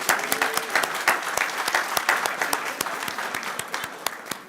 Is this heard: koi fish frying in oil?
no